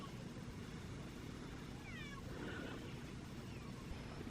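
A stray cat, apparently with a collar, meows a few times in a snowy garden, the cries fairly faint and brief against a steady outdoor background rumble.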